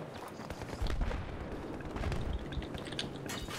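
Distant sniper and artillery-like gunfire crack and boom through a Battlefield 3 multiplayer battle, several shots over a constant rumbling din, with no voices.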